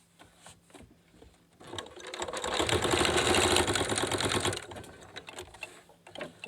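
Sewing machine stitching a cloth face mask strap, a close, loud run of rapid mechanical whirring and needle clatter lasting about three seconds between quieter handling sounds.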